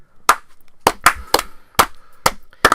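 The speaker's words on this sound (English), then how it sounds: "Slow clap." Seven sharp, separate claps spaced out at an unhurried, irregular pace, each a crisp close smack with quiet gaps between.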